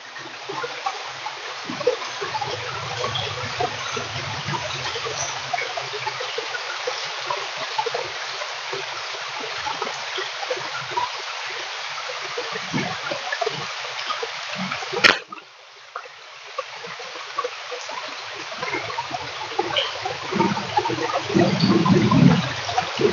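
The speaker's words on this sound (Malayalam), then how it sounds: "കാർ പോർച്ചിന്റെ അതേ ഇവിടെ വരെ വെള്ളം വന്നിട്ടുണ്ട്." Floodwater rushes and flows steadily around a house's car porch throughout, a constant wash of noise with a brief sharp knock midway.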